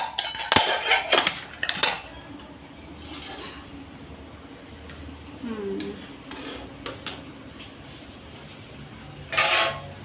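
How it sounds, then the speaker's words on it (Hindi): Dishes and utensils clatter in a home kitchen sink during washing, a burst of loud clinks and knocks at the start, then scattered fainter clinks, with a brief louder clatter near the end. "मैं बर्तन धो रही थी"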